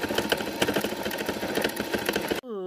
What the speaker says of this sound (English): Time to sew.